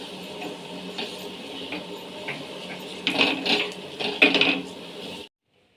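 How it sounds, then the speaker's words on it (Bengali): Rice frying with cashews and raisins in a pan for a Bengali Gobindobhog pulao, a steady soft sizzle with scraping stirs that grow louder near the end before cutting off. "কাজু কিশমিশটা দিয়ে ভালো করে ভেজে নেব চালটা"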